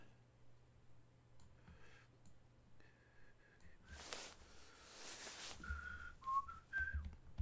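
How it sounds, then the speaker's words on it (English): Short whistled tones drift in and out of a quiet room, briefly drowned by a burst of broadband noise before the whistling returns with a few higher notes. "I just whistle"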